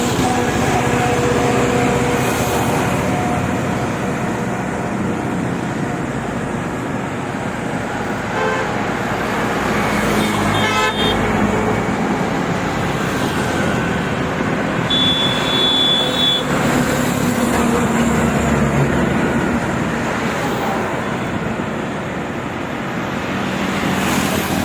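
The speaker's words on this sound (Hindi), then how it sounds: "तो सुबह की सुनसान सड़क अब बदल चुकी है एक लाइट हैवी ट्रैफिक में।" Steady road traffic on a cycling route near Jhalana Dungri, a morning road now busy with light-to-heavy flow; continuous engine and tyre rumble with a couple of short car horn toots partway through.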